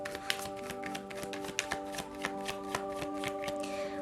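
A deck of tarot cards shuffled close up, a rapid string of crisp riffling taps and flicks in an uneven rhythm, with a steady tonal hum behind them.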